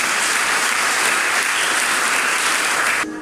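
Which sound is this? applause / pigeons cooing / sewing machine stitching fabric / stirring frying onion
applause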